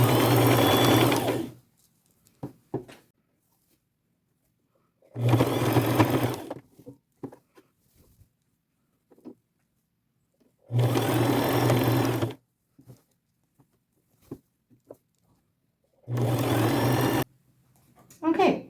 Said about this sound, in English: And I will just go to my machine and get that all sewn on